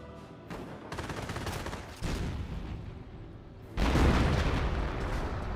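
A German StuG assault gun firing in the World War II strategy game Company of Heroes: heavy booming cannon reports cut in among a continuous din of battle gunfire and explosions, loud and without speech.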